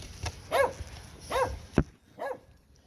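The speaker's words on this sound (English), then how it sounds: "The dog is barking because there's somebody walking in the area." A dog barks several times in short, loud, close bursts, alone with no other sounds, near a Ford F150 pickup parked outdoors while someone walks nearby.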